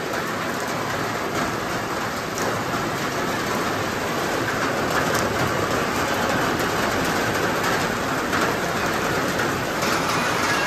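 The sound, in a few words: heavy rain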